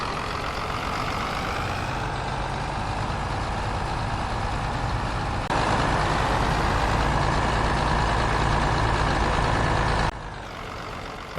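A Mercedes-Benz truck in a farm simulation game drives with a steady, loud engine drone and a broad road rumble. Level shifts mark gear or throttle changes along the way.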